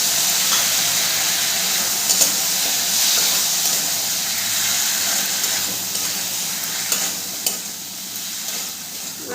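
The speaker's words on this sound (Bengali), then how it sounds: "মশলার বাটিগুলো ধুয়ে আমি এখানে অল্প একটু জল দিয়ে দেবো।" Water splashed into a hot pan of spiced okra masala sets off a loud, steady sizzle and hiss that stays close and continuous throughout, with no voices.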